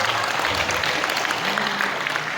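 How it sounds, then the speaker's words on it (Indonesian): Brief burst of audience clapping for parents at a school parenting evening, steady and fairly dense with a murmur of voices underneath. "Tepuk tangan buat ayah bunda yang sudah bicara."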